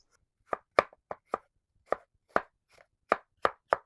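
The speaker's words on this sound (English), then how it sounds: "Now I'm going to slice" A knife slices apples for apple pie on a cutting board, giving about a dozen crisp, distinct chops in an uneven rhythm, close and clear against a quiet background.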